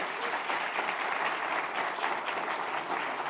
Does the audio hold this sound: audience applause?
yes